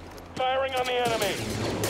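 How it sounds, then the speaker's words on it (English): Blaster fire from a Star Wars Jedi Fallen Order firefight: a sudden, loud, pitched zap with a ringing, sliding tone, followed by a second shot about a second later, over steady battle noise. "Firing on the enemy."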